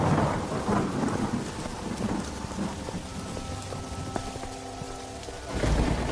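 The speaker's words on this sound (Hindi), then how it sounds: "वह कुछ दूर चला ही था कि तभी जोर जोर से बारिश शुरू हो जाती है।" Heavy rain pours steadily with rolling thunder during a storm in cold winter weather, a dense continuous hiss with deep rumbles swelling near the start and end, no voices.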